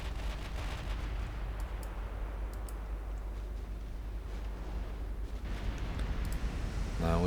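Naval battle explosions in the game Ultimate Admiral Dreadnoughts, a dense continuous low rumble of shellfire and blasts with scattered sharp cracks, loud and sustained throughout.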